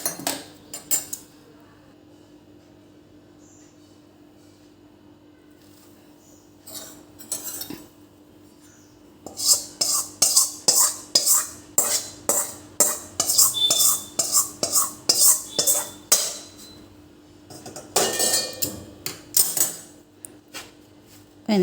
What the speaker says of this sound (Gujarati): ગરમ છે એટલે આવી રીતે ચમચાથી કે ચમચીથી જ એને મિક્સ કરવાનું.